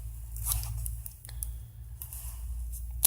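Grand Way 1333 knife slicing through rope: a couple of brief, soft cutting and tearing sounds close up over a low steady hum, with a sharp click at the end.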